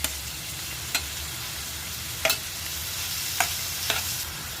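Finely chopped onions fry in oil in a pan under a constant bright sizzle, broken by four or five sharp spatula scrapes, heard up close with no voices.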